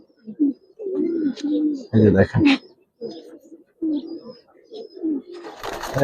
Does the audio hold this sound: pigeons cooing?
yes